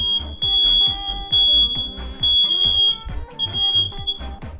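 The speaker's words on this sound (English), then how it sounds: "Ignore the alarm, it's not real." A smoke alarm beeps in a home kitchen during pie baking, its piercing tone repeating in long bursts with short gaps, loud and close over a rhythmic musical backing.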